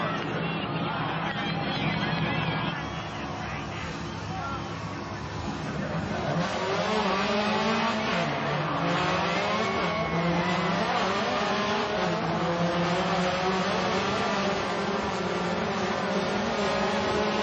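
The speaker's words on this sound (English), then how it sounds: "Travis Pastrana, moments away from flying a car." A rally car engine revs and roars loudly and continuously just before a record-setting long jump, the tone rising and falling, with crowd babble and tire noise underneath.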